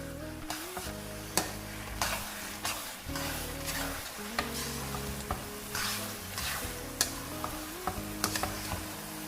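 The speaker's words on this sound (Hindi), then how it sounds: "और इस मिक्सचर को मैंने बहुत अच्छी तरह से मिक्स करना है।" Carrot halwa mixed with khoya is stirred in a hot pan, with a constant sizzle broken by repeated scraping knocks of the spoon against the pan at an uneven rhythm.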